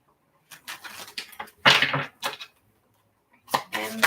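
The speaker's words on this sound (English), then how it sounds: "Okay, last shuffle." A tarot card deck is shuffled in a few short bursts of riffling and slapping card sounds, close and fairly quiet, separated by brief pauses.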